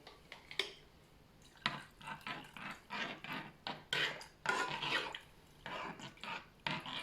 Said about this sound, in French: Donc, on remue bien.